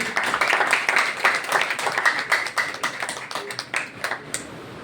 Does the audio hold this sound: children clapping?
yes